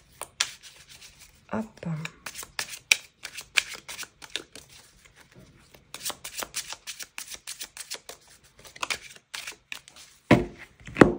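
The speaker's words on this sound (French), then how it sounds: "On va commencer par faire une coupe." A deck of tarot cards is cut and shuffled nearby, giving rapid riffling bursts and soft rubbing with a sharp snap near the end, and a person speaks briefly.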